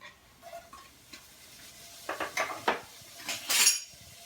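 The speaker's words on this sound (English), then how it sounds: "So I'm gonna start by putting the bacon into a hot pan." Bacon going into a hot pan, a quiet start followed by clinks of utensils and pan, then a rising sizzle in several short bursts that swell near the end, with no one talking.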